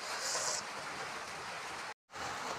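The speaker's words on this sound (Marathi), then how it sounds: "आमच्या इकडं खूप पाऊस आहे." Heavy rain falling, a soft, steady hiss that fills the whole stretch without change, cut off by a brief silent gap near the end before resuming.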